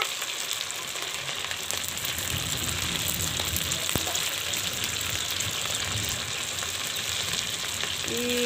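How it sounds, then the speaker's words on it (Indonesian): Rice cireng frying in hot oil, a steady dense sizzle with crackling bubbles running continuously and loud throughout, with no talking. "Ih, cara gorengnya ya dulur-dulur."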